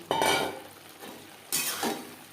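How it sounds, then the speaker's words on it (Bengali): Fried pointed gourd (potol) is tipped into a pan of cooked-down spices over a high gas flame, giving two clattering, sizzling bursts of spoon and pan noise separated by a quieter frying hiss. "গ্যাসের ফ্লেমটাকে হাইতে করে দেব আর দিয়ে দেব ভেজে রাখা পটল।"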